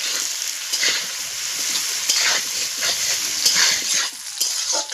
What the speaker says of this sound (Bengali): এবার আলু পেঁয়াজ দুটোই ভাজা হবে।